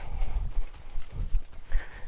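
A two-year-old filly trots outdoors, her hooves clip-clopping in a steady, close rhythm of muffled thuds, with no talking over them.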